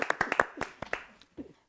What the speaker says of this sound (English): but it's a big clap for you.